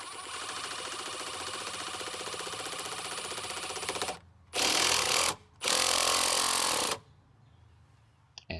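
An impact driver tightens a machine screw into a T-nut in wood while building a portable reloading bench, a long steady buzzing rattle followed by two loud hammering bursts, then quiet.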